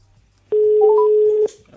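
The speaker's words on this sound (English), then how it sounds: "All right, it's ringing." A telephone line sounds a single steady tone, loud and close, lasting about a second with faint keypad-like blips over it before it cuts off; no voices.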